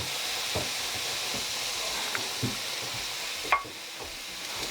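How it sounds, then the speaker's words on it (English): Rice flour being stirred into a tuna croquette mixture, a soft steady scraping hiss with a few light utensil taps near the end, close and quiet with no talk. "and I'll stir it"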